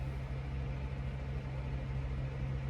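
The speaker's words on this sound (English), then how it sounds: "sorry if you can hear the fan in the background" An electric fan running steadily in a room on a hot day, a constant low hum and broadband whir with no change, faint and continuous.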